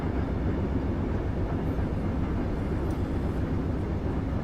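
A long train rolls past steadily in a train simulator game, a continuous low rumble of rail noise holding even and loud throughout with no voices.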